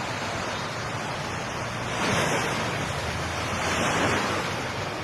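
Ocean waves rolling in after an earthquake in the Philippines, a steady surf roar that swells twice as water surges back toward shore, with wind in the background.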